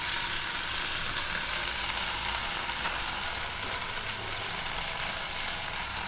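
Country chicken fries in a pan with a steady, dense sizzle, loud and constant throughout with no talking.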